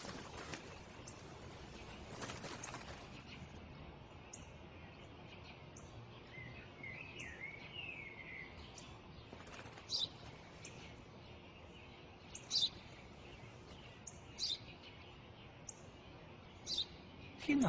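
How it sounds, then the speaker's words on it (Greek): Short, sharp sparrow chirps ring out intermittently, several separate calls spaced a few seconds apart over a quiet, faint background. "Ένα σπουργίτη είναι, πατέρα."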